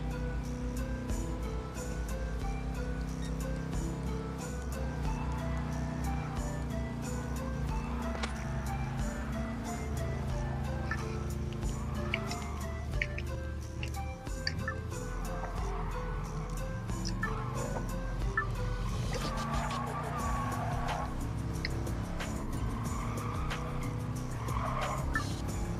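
Racing car engines in Gran Turismo Sport, including a Skyline and an Integra, droning steadily with shifting revs and occasional tire squeal, a continuous moderate engine hum throughout.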